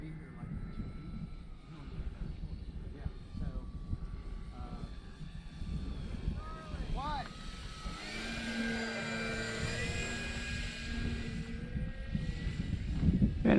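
A Timber X radio-controlled airplane whines overhead on a crosswind day, its motor pitch rising and falling as it passes, with steady wind noise and voices talking over it throughout.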